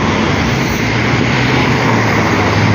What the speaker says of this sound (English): Somebody got a broken exhaust.